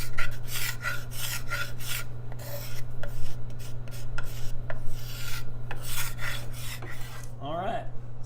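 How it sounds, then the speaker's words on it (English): A hand scraper shaves wood on a guitar in quick, repeated rasping strokes up close, with a faint steady hum beneath. "So it's really taking off quite a bit of material pretty quickly"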